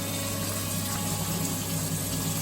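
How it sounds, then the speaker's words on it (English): An electric water pump runs steadily, pushing rainwater from a water butt into a storage tank, giving a constant close hum with a whooshing flow of water and no talk. "So turn the pump on, and I've selected a feed into this tank here."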